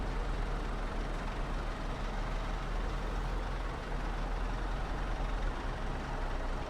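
A truck engine at full throttle in the Snowrunner video game, a steady broad droning roar with a low rumble that holds constant throughout, without talk.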